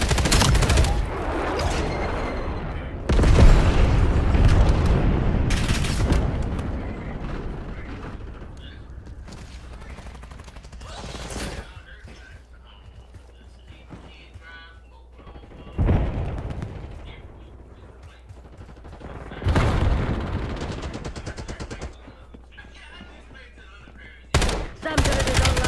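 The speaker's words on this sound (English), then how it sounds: "Incoming napalm strike detected in your AO." A napalm strike in a console shooter brings heavy explosions and bursts of gunfire in several loud waves, with quieter stretches of crackling between them and voices talking over parts of it.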